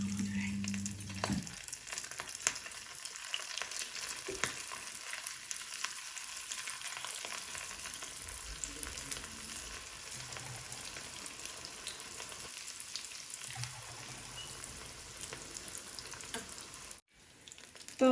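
Chicken cigar rolls frying slowly in oil over low to medium heat, a steady broadband sizzle running throughout with faint scraping and stirring noises, close and alone with no talk.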